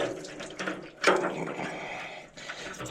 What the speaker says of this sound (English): And it is draining, so sucking some air through as well.